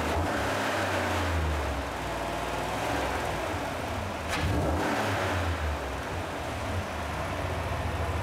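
Engine of a 2016 Cadillac Escalade Platinum with 8-speed transmission, heard steadily from close range with a low roar and a brief rise in revs midway.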